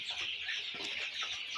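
Sonali breed chickens in a farm shed at night keep up a dense, continuous clucking chatter from a close flock, steady throughout with no voices.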